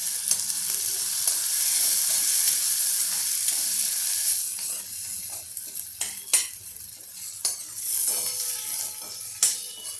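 Urad papad pieces stirred and frying in a pan, a bright hiss that fades after a few seconds, then irregular clinks and scrapes of a utensil against the pan over a softer sizzle, with nobody speaking.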